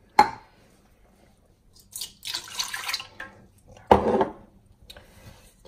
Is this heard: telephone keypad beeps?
no